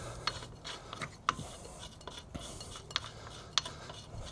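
Metal wheel bolts are handled while a spare wheel is fitted to a car, making quiet scattered clinks and rasping scrapes that come at irregular moments, close up, with no talking.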